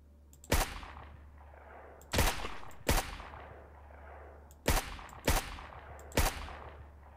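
A grenade launcher in SurrounDead fires six loud, heavy reports at irregular spacing, each with a booming tail that fades over a low steady hum.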